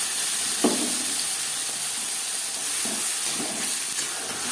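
Ginger, green chili, garlic, onion and tomato paste fry in refined oil with a constant loud hiss and sizzle, punctuated by a few soft stirring scrapes close by, no voices.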